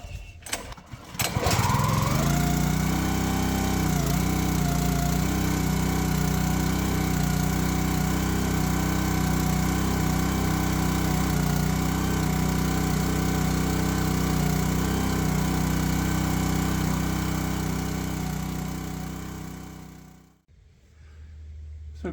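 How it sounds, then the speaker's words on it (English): Small gas engine on a Champion 27 ton log splitter catching after a pull-start and then running at a steady loud drone for about twenty seconds before cutting off abruptly. "So guys, did you see how easy that started?"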